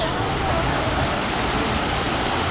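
Continuous broad splashing roar of a waterfall at a zoo gorilla exhibit, steady and close, with no words spoken over it.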